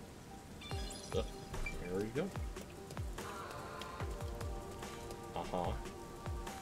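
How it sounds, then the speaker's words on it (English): Steady rain hisses throughout in a video game set in a rundown town where the rain never stops, with game sounds and a nearby voice talking over it. "It rains 24/7, no matter the place."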